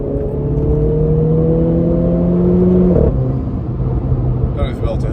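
A Renault Clio MK4 RS 200 EDC driving with gearbox faults, a loud interior engine hum with rising whining tones that climb, then drop sharply at a shift, followed by a lower steady drone.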